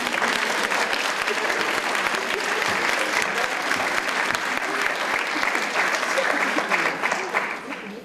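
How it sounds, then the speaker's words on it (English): Dense, sustained applause from an audience for program participants at a university welcome-week event, loud and continuous, with some voices mixed in before it thins slightly at the end. "Please give a round of applause to our program participants during this wonderful occasion."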